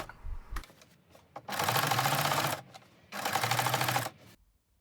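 A sewing machine stitches a waistband seam on wide-leg pants in two close bursts of rapid, even whirring, separated by quiet handling clicks.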